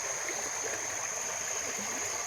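A shallow river flows steadily nearby, a continuous broadband rush of moving water with a thin high hiss running through it and no voices.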